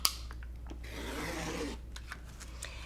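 Scissors cutting cross stitch fabric, a soft close snip followed by a quiet sliding crunch of blades through cloth and a few faint clicks.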